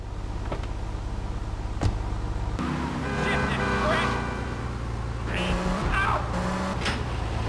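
An Infernus sports car drives in the video game GTA 3, its steady engine drone and road noise running throughout beneath someone talking.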